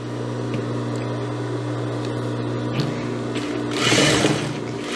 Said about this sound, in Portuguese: e passo a costura